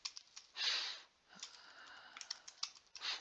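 Keys clatter on a computer keyboard as text goes into an email campaign box, soft close tapping in short uneven runs with brief pauses between.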